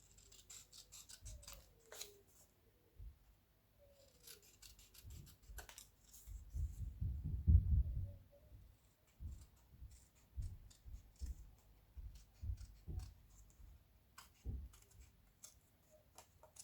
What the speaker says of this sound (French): on va couper, on va découper